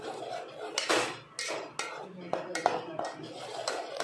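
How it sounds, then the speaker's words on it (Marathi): A utensil stirs mutton masala in a cooking pan, making irregular metallic clanks and scrapes close by, while someone talks over the stirring. "आता मस्त हलवायचं"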